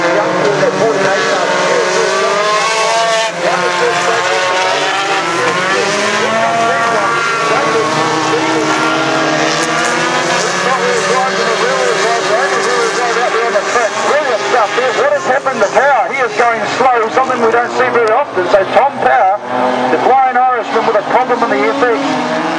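Race cars on skinny tyres accelerate on a slushy grassroots racing track, their engines roaring loud and continuous throughout under steady commentary.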